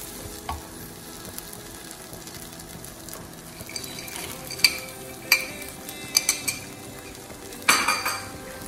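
Chakkara pongal with nuts gets stirred in a pan, soft low sizzling under a series of sharp spoon scrapes and metallic clinks on the pan that grow more frequent toward the end.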